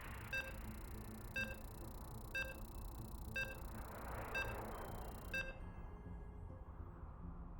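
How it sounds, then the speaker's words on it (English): Six evenly spaced electronic beeps sound during a StarCraft 2 tournament broadcast, about one per second, quiet over a low background hum that cuts off after the last beep. "Oh, can hear the beeps."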